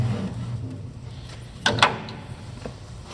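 Protective blade guard sliding off a Grob 24-inch vertical bandsaw, heard as two quick close scraping slides of metal one after the other, then a faint knock, over a low room hum.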